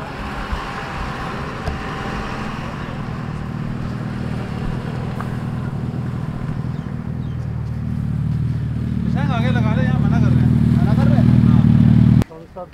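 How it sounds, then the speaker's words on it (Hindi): Suzuki Hayabusa motorcycle approaching and passing, a steady engine roar that swells louder toward the end before cutting off abruptly, with a person talking briefly over it. "एक और आ रही है अभी हायाबुसा"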